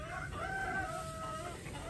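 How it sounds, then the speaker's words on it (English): Chickens clucking and a rooster crowing close by around a van on a farm, with a steady run of overlapping calls throughout. "all the freaking chickens are jumping into my van"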